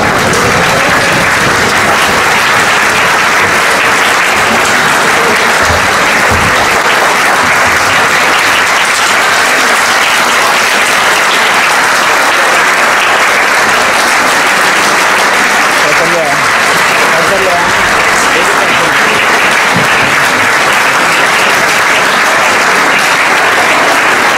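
Sustained, dense applause from a seated-then-standing audience at a Iqbal Day ceremony at the University of Sialkot, loud and steady throughout with a faint voice or two underneath.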